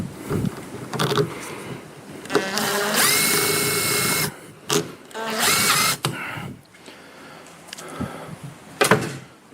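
A power drill drives a couple of quick self-tapping screws into a wooden framework for a split-level cat house, several loud whirring bursts separated by brief pauses, close by with no talk.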